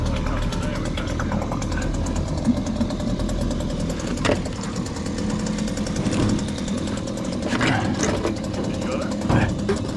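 A chainsaw engine drives a homemade Thai longtail boat motor, buzzing loudly and continuously up close, with voices talking over it.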